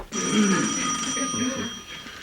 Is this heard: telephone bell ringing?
yes